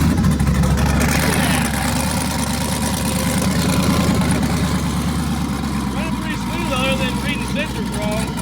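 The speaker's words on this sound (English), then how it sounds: "We're going to see her reaction to this thing launching and then just cruising and getting on it." A twin-turbo car's engine runs steadily throughout, a loud continuous low rumble with a faint revving rise, while voices talk over it inside the cabin.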